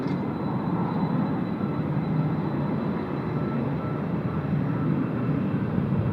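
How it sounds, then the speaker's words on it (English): A Boeing 777-300 airliner on final approach to runway 22 at Haneda sends out a steady, broad jet roar that holds constant throughout, heard from a distance without talk. "And just established on their final approach here for runway 22."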